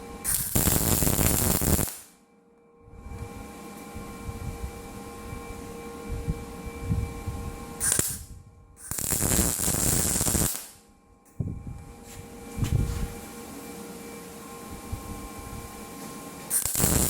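A Lincoln Power MIG 210 MP welder tack welds flat steel tabs in short separate bursts, loud crackling buzzing arcs a couple of seconds each, separated by quieter stretches with a steady electrical hum.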